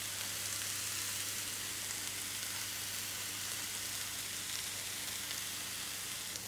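Vegetables sweating in oil in a non-stick pan for a vegan stuffed aubergine dish give a steady, soft sizzle and crackle, even and continuous at low level with no talking.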